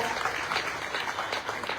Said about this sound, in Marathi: जोरदार टाळ्या ह्या सगळ्यांसाठी होऊन जाऊ द्या एकदा